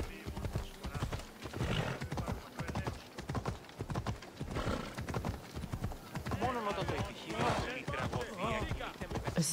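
Horse hooves clip-clop steadily in Assassin's Creed Odyssey, a loud, rhythmic trotting beat with a whinny partway through, continuing for nearly ten seconds.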